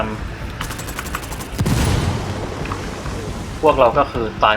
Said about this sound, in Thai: โอ้ใครยิงอ่ะ